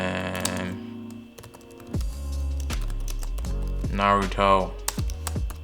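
Keys clack on a computer keyboard in irregular bursts, close, while a person talks over the typing.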